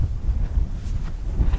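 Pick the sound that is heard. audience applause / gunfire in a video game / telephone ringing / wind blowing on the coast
wind blowing on the coast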